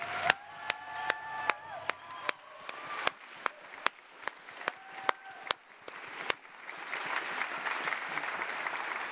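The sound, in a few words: audience applause at a ceremony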